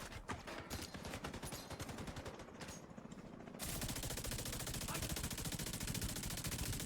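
Sustained automatic gunfire in the video game The Division 2 rattles in a fast, continuous stream, loud and close, shifting to a denser, heavier burst partway through, with no talk.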